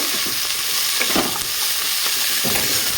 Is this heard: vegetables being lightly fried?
yes